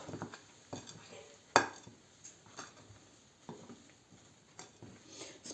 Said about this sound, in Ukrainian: спочатку замішуємо ложкою